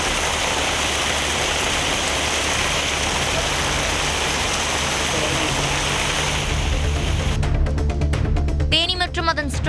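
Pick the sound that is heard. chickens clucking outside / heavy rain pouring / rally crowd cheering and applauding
heavy rain pouring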